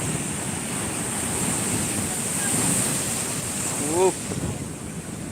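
Sea waves at Shankarpur beach roll in as a steady broadband wash of surf with strong wind buffeting the microphone, continuous and fairly loud, with a brief tonal chirp near the end.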